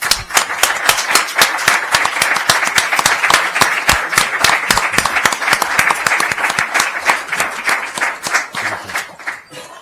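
An audience gives sustained, dense applause for UME soldiers, loud and steady before tapering off at the end.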